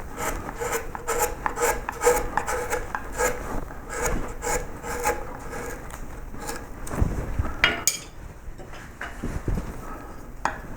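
A rasp shaping the head of a wooden koi carp carving, repeated close, rhythmic scraping strokes that continue throughout with a few heavier knocks near the end.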